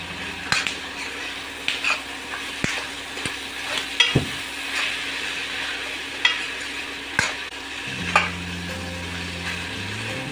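Pre-boiled mutton stirred into hot oil in a pan for curry, a soft steady sizzle under repeated scraping strokes of a spoon against the pan, with a few sharper knocks.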